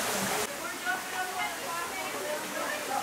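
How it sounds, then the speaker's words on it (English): Water rushes and flows up ahead inside a jungle cave in Guatemala, a continuous broad roar like a small waterfall, with voices talking over it. "Hear water up ahead."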